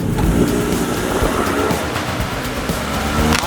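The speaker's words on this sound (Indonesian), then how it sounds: "sekarang kita lanjut ngelindes Asus Zenfone Max Pro M2 pakai mobil" Car driving over an Asus ZenFone Max Pro M2 phone: a loud, close, steady rumble of engine and tyres rolling across the ground, with no clear crunch standing out.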